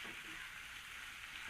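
Chopped onions sizzle steadily in hot oil in a pan while upma is being cooked, a continuous close, even frying hiss with no one talking.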